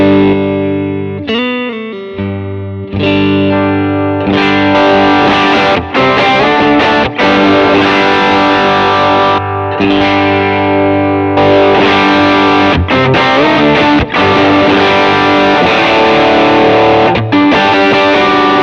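Electric guitar through a 1964 Vox AC30 Top Boost tone-match patch on a Line 6 Helix rings out loud and alone, shifting between chords and riffs with saturated distortion and effects swelling in over the passage.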